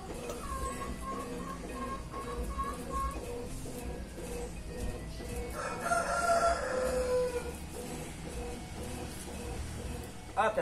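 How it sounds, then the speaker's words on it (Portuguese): A rooster on a rural backyard farm crows once, a drawn-out call midway through, heard at moderate distance over constant low outdoor noise and faint background voices. "Isso aqui é o galo, ó."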